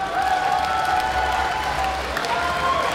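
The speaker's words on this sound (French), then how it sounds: "S'il vous plaît, un tonnerre d'applaudissements!" Audience applause and cheering at a cosplay show, a dense continuous wash of clapping from a crowd with a tonal whistle or cheer riding above it, steady and moderately loud throughout.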